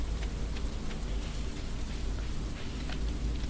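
Steady rain in the video game Stardew Valley, a soft continuous hiss of falling drops at low volume throughout, with no voices.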